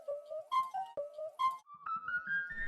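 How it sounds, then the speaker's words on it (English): An unprocessed ocarina sample plays a short melodic phrase of breathy, pure tones, stepping up and down across several notes before a rising held note, close and dry. "It's actually the actual ocarina sample that I used and heavily processed it"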